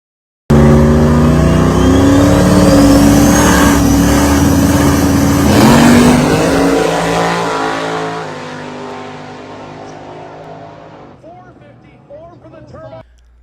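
Race cars roar at a track during qualifying runs, one loud engine note holding and then fading into distance over about ten seconds, with a person talking across it.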